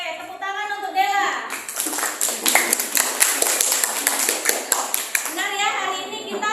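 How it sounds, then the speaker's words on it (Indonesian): Classroom clapping from students during a lesson, a burst of scattered hand claps with a teacher's voice speaking before and after. "tepuk tangan untuk Dela."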